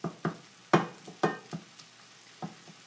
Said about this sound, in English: I'm going to mix in the mushrooms and the onions.